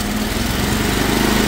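The engine of a high-pressure water drain cleaning van is revved, a loud, close, steady buzzing drone that swells slightly, with no voices.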